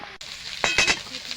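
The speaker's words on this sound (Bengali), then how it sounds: "মাছগুলো এভাবে উল্টে পাল্টে ভেজে নেব।" Fish pieces rubbed with salt and turmeric fry in a hot kadai, giving a short burst of sizzling spatter with a few sharp crackles as they are turned over.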